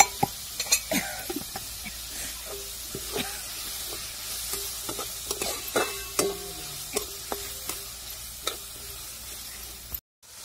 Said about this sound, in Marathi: तर तेल टाकलं कांदा चांगला लाल परतून द्यायचा आहे आपल्याला।